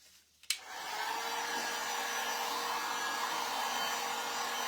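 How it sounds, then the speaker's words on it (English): A heat gun dries Dixie Belle patina paint: after a click it switches on and settles into a steady, fairly close blowing whir with an airy hiss that runs evenly to the end. "Let's use the heat gun"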